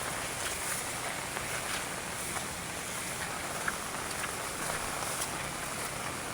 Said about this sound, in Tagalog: Tara, inabutan na tayo ng malakas sa ulan.